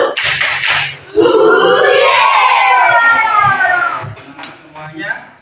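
A classroom of Indonesian schoolchildren performs the 'tepuk semangat' clapping chant, their voices rising together into a loud, sustained unison shout after a few sharp opening bursts.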